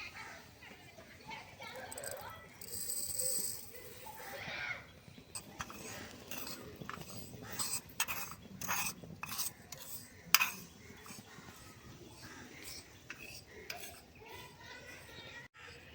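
Sesame seeds being stirred as they dry-roast over a gas flame in a tiny miniature kadai, with light scraping and clinking of a small utensil against metal, continuous and fairly close, under a faint background hum.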